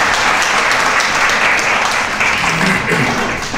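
An audience at a networking skills presentation applauds the speaker with steady, dense clapping that holds loud and even throughout, easing slightly at the end.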